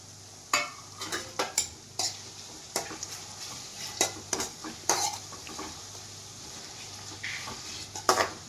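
Beetroot and carrot cooking in oil over a low flame, soft sizzle under repeated clinks and scrapes of a spoon stirring in the pan, close and fairly quiet.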